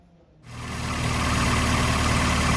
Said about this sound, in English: Okay, I'm just waiting for the engine to warm up.